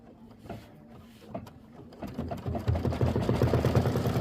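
An embroidery machine stitches a satin outline on a lemon motif for a small quilt block, its rapid rhythmic needle clatter starting quietly and growing louder and busier after a couple of seconds.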